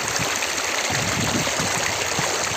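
Dhansiri River water flowing on the Assam–Nagaland border, a steady close rushing and trickling wash that stays even and loud throughout.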